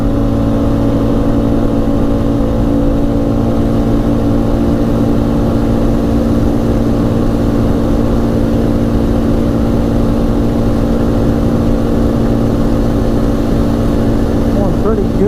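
An ATV roars steadily under heavy acceleration on a top speed run, its loud, close engine drone continuous throughout with a dense rumbling tone, while a rider talks over it.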